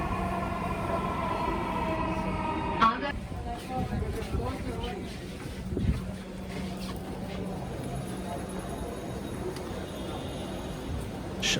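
Dhaka Metro Rail train running at speed near Agargaon, a steady rumbling roll heard from inside the carriage, with occasional clunks and people talking faintly underneath.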